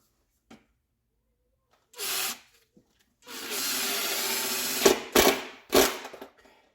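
A power drill drives a screw into a wall stud while an EV charger is being installed. A short whir is followed by a longer steady drilling burst and a few sharp final bursts, all close and loud.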